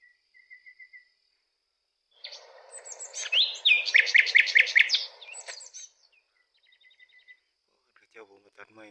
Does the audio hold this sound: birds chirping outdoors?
yes